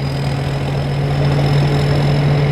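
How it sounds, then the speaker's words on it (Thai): A Phet Charoen combine harvester works a muddy rice paddy in dry-season harvest, its engine giving a steady, close, continuous drone with a constant low hum and no voices. "รถเกี่ยวเพชรเจริญครับผม"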